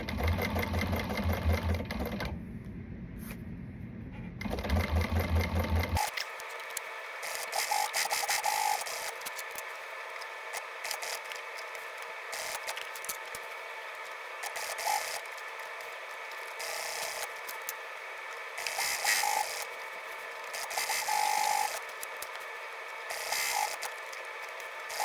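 A sewing machine quilts stitches into a piece of vinyl, whirring in steady bursts with brief pauses between runs, close and continuous throughout.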